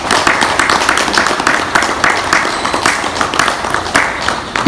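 A room full of people at a breathing and meditation class claps together in a steady, dense patter of applause that keeps going at an even level throughout.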